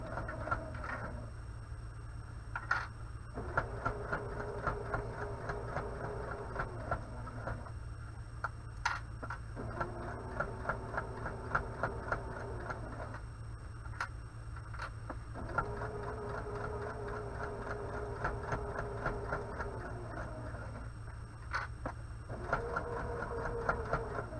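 A sewing machine stitching a seam on a kitchen towel, steady close mechanical whirring in repeated runs with short pauses and ticking stops in between.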